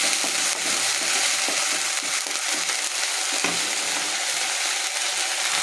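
A spice paste of chili, garlic, ginger and onion fries with turmeric and salt in a pan, a continuous close sizzle broken by scraping spoon strokes and small clicks as it is stirred.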